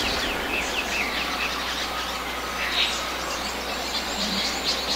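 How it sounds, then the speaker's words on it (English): Bird chirps and calls in a lush rainforest-like background ambience from the Wii Sports video game, steady and moderately quiet throughout, with no talking. "if you listen to the background, it sounds like we're in, like, the rainforest. Like, hold on, listen to the birds and stuff."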